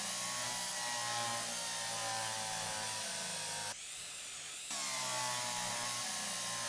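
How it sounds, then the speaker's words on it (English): A power drill in the train simulator Derail Valley whines loudly and steadily for several seconds, stops briefly, then starts again, with no talk over it. "I get the drill again."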